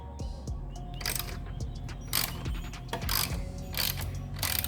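A hand ratchet with a 5 mm bit works the rear-set bolts on a Kawasaki ZX6R, giving rapid, close clicking bursts in uneven runs with brief pauses between strokes.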